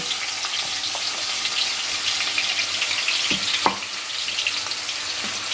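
Onions sizzle and fry steadily in a pan of hot oil while methi chicken is being cooked at home. The hiss stays constant, with a few clinks and stirring knocks from utensils.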